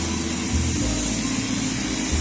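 Helicopters hover or pass overhead during a crowded, chaotic scene, giving a steady loud low rotor and engine drone with broadband roar that holds evenly throughout, no voices standing out.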